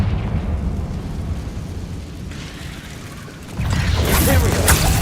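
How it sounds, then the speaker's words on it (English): A fiery Confringo blast spell in Hogwarts Legacy: a low rumbling roar builds, then a bright crackling burst of fire erupts near the end, loud and close. "Confringo."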